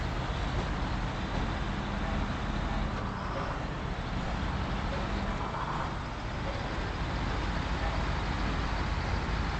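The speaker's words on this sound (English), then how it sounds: "The engine's really roaring" Heavy truck engine roaring steadily in the off-road driving game Snowrunner, Michigan map on hard mode, a loud continuous low drone that fills the whole stretch without pause.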